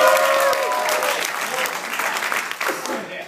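A comedy club audience applauds and cheers loudly, a dense wash of clapping with a few whoops that gradually tapers off.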